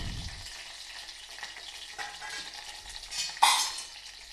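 Curry leaves and dried red chillies sizzle in hot tempering oil for tomato rasam, a soft steady frying hiss broken by a few stirring scrapes and a sharper sputter near the end.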